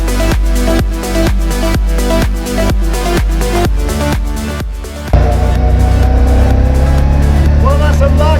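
A classic Mini on a test drive around a small circuit. Its engine drones loudly at first, pulsing in a regular rhythm under the music, then shifts to a steadier, busier running note for the last few seconds.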